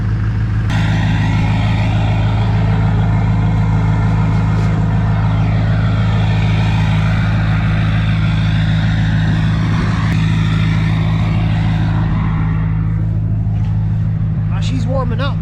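A Duramax diesel pickup engine idles steadily after a cold start, warming up with a loud, continuous low rumble that stays close throughout, with voices talking over it.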